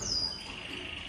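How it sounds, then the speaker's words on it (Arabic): A siskin gives a single high, thin chirp up close, a short descending call followed by a faint sustained tone, with no other sounds around it. "كاين اللي تعيط لهذا البانسو، راك غلط، راه السيسكن."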